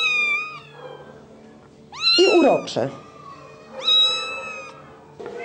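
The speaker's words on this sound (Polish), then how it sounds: "w schronisku są oczywiście też koty, no i szczególnie sporo w ostatnim czasie przybyło kociąt" Kittens at an animal shelter give three clear, high, drawn-out meows spaced across the stretch, close and fairly loud, while someone talks quietly in between.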